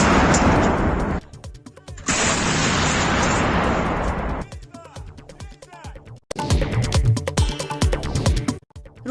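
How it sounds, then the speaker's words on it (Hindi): Heavy booming artillery blasts in the Russia-Ukraine war, with long rumbling roars, separated by short gaps with crackling debris and scattered bangs, loud and close. "यूक्रेनी सेना भी लगातार तोपों और टैंकों से रूसी फौजों पर हमला कर रही है।"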